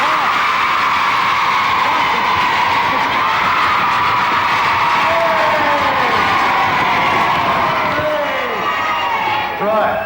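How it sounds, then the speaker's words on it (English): Studio audience on a vintage British children's TV show applauding and cheering, a loud sustained crowd roar with whoops, continuous throughout with faint tonal sounds mixed in. "Dave, give a nice round of applause."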